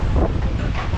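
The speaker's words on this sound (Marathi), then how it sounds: "खूपच वारा सुटलेला आहे आज." Strong wind buffets the microphone beside a riverside temple, a steady, loud rumbling roar filling the whole moment.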